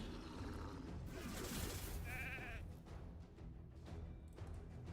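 A sheep bleats in Raid: Shadow Legends, one short wavering cry amid busy game effects and muffled background noise.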